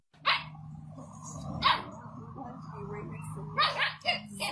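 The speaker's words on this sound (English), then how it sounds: "This Nice. big dog showed this little dog what a real bark is supposed to sound like." A big dog lets out loud, deep barks in short separate bursts, close by, with a low hum and some voices around it.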